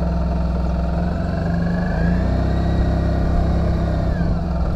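A 2004 Suzuki AN650 Burgman scooter engine runs close by with a steady droning hum that rises slightly in pitch partway through, with no speech over it.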